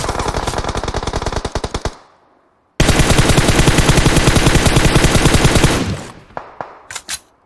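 Rapid automatic gunfire in a battle royale shooter game, two long, loud, close sustained bursts separated by a short silence, ending with a few scattered single shots.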